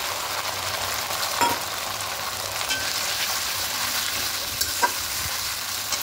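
Tomato paste hits a hot pan of spiced khichuri made with Gobindobhog rice, giving a steady bright sizzle and frying crackle throughout, with a few soft stirring taps and no voices.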